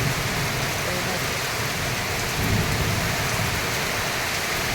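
Heavy rain pours steadily and loudly on surfaces during a storm, a dense continuous hiss with faint low rumbling beneath.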